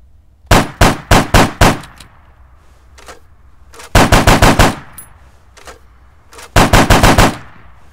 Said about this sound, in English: I will make a precision shot.